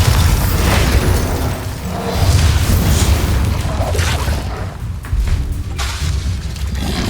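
A Bombarda explosion spell in Hogwarts Legacy erupts in heavy booming blasts with bursts and crackling debris, loud and sustained over several seconds amid spell-combat noise.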